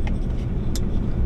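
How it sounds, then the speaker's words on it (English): A car passing on a road beside a creek, a steady close engine and tyre roar throughout a short stretch, with no voices. "there's not a whole lot of traffic."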